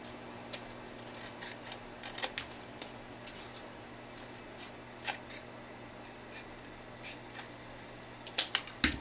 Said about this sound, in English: take my scissors, just going to cut half of this